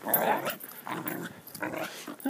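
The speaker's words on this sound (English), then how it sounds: "A scary dog." A dog growls and grumbles in short, close bursts while tugging on a toy in a game of tug-of-war, with rough snarls and faint whimpering yips between pulls.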